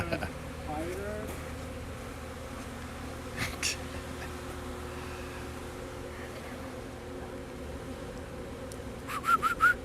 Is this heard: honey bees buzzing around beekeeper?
yes